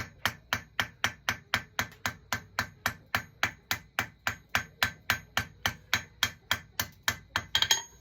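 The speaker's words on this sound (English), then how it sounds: "as I'm planishing this round side out of it" A hammer planishes hot forged metal for a wall hook in a fast, even rhythm, about three blows a second, ringing and close, with a quick flurry of lighter taps at the end.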